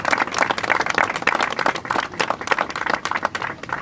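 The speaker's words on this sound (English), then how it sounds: "Jill, give her a big round of applause." Applause from a crowd at a gathering of Staten Island officials supporting Holtermann's Bakery: steady, dense clapping held at an even level for a few seconds, with no voices over it.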